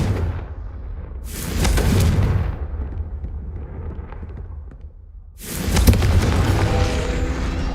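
Spell explosions from Hogwarts Legacy, two loud booming blasts separated by a few seconds of rumbling decay, each bursting in suddenly and rolling off.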